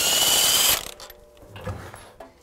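A ratchet or impact tool works the 22 mm flywheel bolt on a Polaris RZR, a loud buzzing burst for under a second, then stops, followed by a few faint metallic clicks and clunks.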